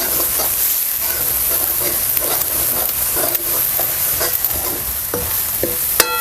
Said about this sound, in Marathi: चांगलंच आपण नाही परतून घेऊया